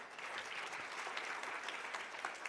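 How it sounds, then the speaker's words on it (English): An audience at a health workforce investment forum applauds a speaker with steady, continuous clapping, faint and distant throughout. "Another round of applause for him."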